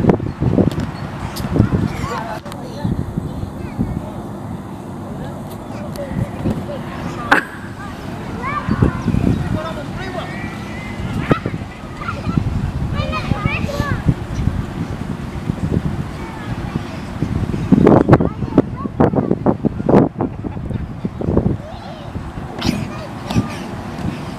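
Wind buffets the microphone outdoors at a family adventure park in Devon, a continuous rough roar with gusts, loud and close, while people talk now and then.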